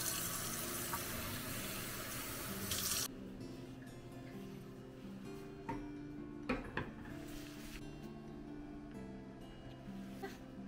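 Warm water gushes from a tap for a few seconds and then shuts off, followed by quiet clinks and small knocks nearby.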